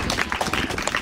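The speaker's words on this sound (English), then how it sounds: "Please, a standing applause for her, please." An audience at a back-to-school supply event for poor children rises in a standing ovation for the Minister of Education, a short burst of dense, close clapping with no voice on top.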